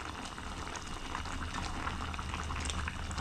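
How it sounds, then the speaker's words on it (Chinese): Pot of water with potatoes at a full rolling boil, steady dense bubbling and simmering hiss, close and continuous without any talk. "烧开了，烧开了，感觉哎呀水有点多呀"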